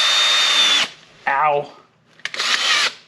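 A power drill with a small bit enlarges a hole while fitting Lasfit flood and fog lights on a Ford Raptor: two loud high-pitched whining bursts separated by a pause, with a brief spoken exclamation in between.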